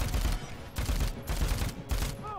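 Gunfire from a gun in the video game Dead Rising, heard as a loud run of repeated shots in four or five close bursts with a steady, rapid rhythm.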